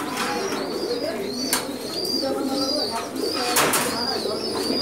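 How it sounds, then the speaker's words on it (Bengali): Pigeons in a breeding loft coo repeatedly in soft, rhythmic calls close by, with occasional wing flaps or scuffles over a low background. "খুবই সুন্দর কবুতর, অনেক পেয়ার।"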